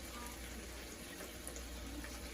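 Liquid splashed onto vegetables in a kitchen while cooking a steak dinner with bacon green beans, heard as a faint, continuous watery pouring hiss lasting a couple of seconds, low in level.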